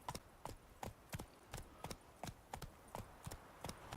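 Roach, Geralt's horse in The Witcher 3, galloping steadily, a close, quiet run of rhythmic hoof clops in a regular beat with no other sound.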